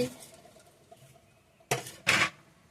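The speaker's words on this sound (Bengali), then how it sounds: "এবারে আমি ঢাকনাটা খুলে দেখে নিচ্ছি" A lid is lifted off a pot of raw mango pickle, giving two short, close metallic clanks in quick succession after a quiet stretch.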